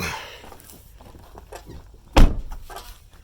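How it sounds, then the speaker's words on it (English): A Buick LaCrosse sedan's front door, which has a broken plastic handle, is pulled open. Faint fumbling comes first, then a single loud clunk of the latch, followed by quieter rustling. "See if I can get this front door open."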